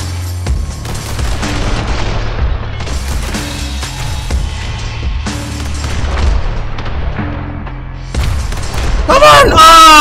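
Repeated loud gunshots and booming blasts from the Hong Kong Massacre shooter game come in bursts, with a person talking over the action throughout.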